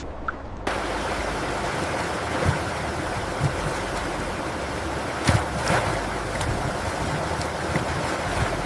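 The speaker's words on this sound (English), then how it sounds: "They are conveyed out of the flume and into giant tumbler washers, rotating drums designed to scrub them cleaner than surgeon's hands." A water flume carries and washes pumpkins inside a factory, producing a dense, continuous rush of churning water. The sound is loud and close, with occasional knocks and splashes, and starts abruptly after a brief quieter moment.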